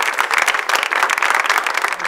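Brisk applause from a studio audience welcoming actress Sanam Iqbal on a comedy show, a dense burst of many hands clapping close together for about two seconds.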